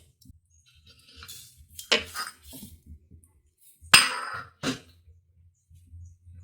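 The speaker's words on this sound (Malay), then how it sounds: "Kemudian kacau dia." Utensil clinking and scraping against a pot while custard mixture is stirred for a cocktail pudding, in irregular bursts of metallic and glassy contact with quiet gaps between.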